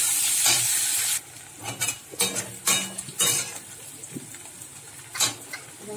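Chopped onions hitting hot oil in a home-cooking pan after eggs were fried, a sharp burst of sizzle followed by scattered stirring scrapes and clinks of a utensil against the pan.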